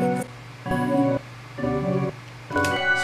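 A hip-hop style beat made in FL Studio is chopped by a Gross Beat gate effect, cutting in and out in regular bursts with brief silent gaps between loud, full sections and no talking.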